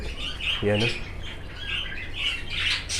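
Crested Japanese bantam chickens in a poultry coop give one brief, harsh squawk partway through, amid rustling coop noise and faint voices in the background.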